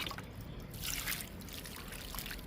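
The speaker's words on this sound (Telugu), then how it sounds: "వాటర్ని కొంచెం ఎక్కువ వేస్తున్నాను." Water trickles and splashes from a pour onto a small potted jasmine plant, a soft close gurgling stream with brighter splashy bursts, fairly quiet and without talk.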